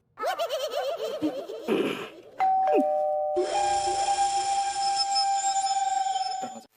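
An electronic doorbell chimes repeatedly, a warbling tone followed by a long sustained ding ringing on, loud and close, with no talking.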